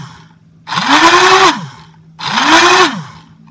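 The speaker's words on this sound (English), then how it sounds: "Pusher quits moving, and the flywheels also stop" Flywheel motors of a Nerf Rival Uzi blaster spin up twice in a row, each a loud rising whine that holds for under a second and then winds down to silence, close and isolated.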